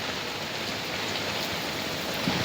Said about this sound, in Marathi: पण काय हे पाऊस